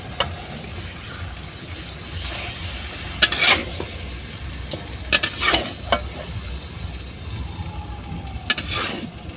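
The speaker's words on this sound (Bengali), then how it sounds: "চিকেনটা দিয়ে দিলাম, দিয়ে ভালো করে মাখিয়ে নেব।" Chicken pieces are stirred and coated with spices in a pan over a clay stove, with a soft sizzle beneath several sharp scraping strokes spaced a second or two apart.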